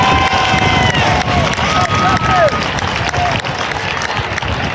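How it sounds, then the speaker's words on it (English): A large crowd at a high school football Ring of Honor induction in Euclid bursts into loud, sustained applause and cheering, dense and continuous throughout, with shouts and voices mixed into the clapping. "Let's give a big round of applause for Pepe Pearson."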